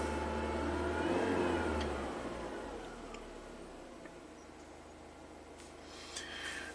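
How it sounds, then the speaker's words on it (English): A PT Cruiser engine with a fault causing low power and no boost idles and shifts its RPM as it changes into open loop operation, a steady close mechanical hum that swells and then settles lower. "You can hear that, how the engine's changing RPM when it goes into open loop drive"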